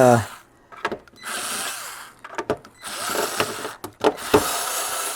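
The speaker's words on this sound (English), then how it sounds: "notice that I'm using like a cordless screwdriver" A cordless screwdriver drives screws into the particle board of a Marantz 6120 turntable, giving short whirring bursts separated by quiet pauses, close by.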